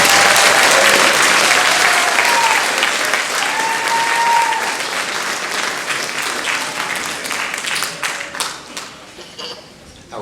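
Audience applause at an instrumental spring concert, loud sustained clapping from a crowd that gradually thins and tapers off toward the end.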